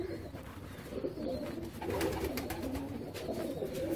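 Soft Teddy pigeon cooing repeats close by against a rustling, noisy background, the low throaty calls rising and falling without any talking.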